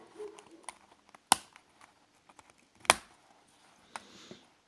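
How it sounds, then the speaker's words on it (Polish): Plastic casing of a Nokia C1-01 phone being pried open from the bottom edge, with two sharp, loud snapping clicks, plus scattered small ticks and taps, close up and without talk. "I teraz podwadzamy obudowę od samego dołu."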